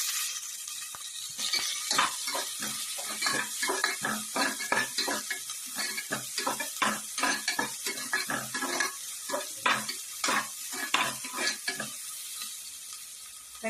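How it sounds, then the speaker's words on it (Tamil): Chopped onion sizzling and crackling in a frying pan of hot oil while cooking chana masala, a steady close hiss broken by dense bursts of popping and stirring scrapes, with no voices. "அது நல்லா பொரிஞ்சதுக்கு அப்புறமா கட் பண்ணி வச்ச ஒரு வெங்காயம் சேர்த்துடலாம்."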